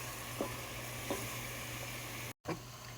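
Vegetables and garlic frying in a pan give a quiet, steady sizzle with a faint low hum, broken by a few soft stirring clicks and one brief dropout.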